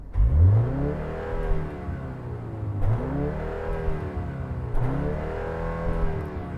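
A BMW M135 with a sports exhaust revs in three repeated bursts, each climbing then falling back, heard close and fairly clean with no talk.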